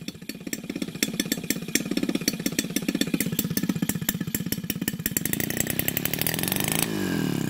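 Evolution 35 GT gasoline model engine with a CH CDI ignition conversion, running close by: a rapid, loud, chainsaw-like buzzing put-put that rises slightly in pace before shifting tone near the end.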